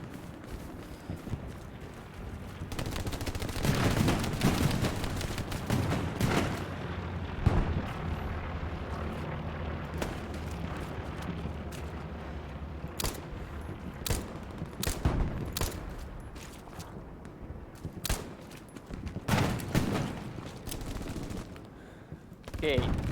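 Rapid machine gun bursts and scattered gunshots fill a Hell Let Loose battlefield, dense and continuous at mid distance, with sharp individual cracks standing out over a background rumble and occasional voices.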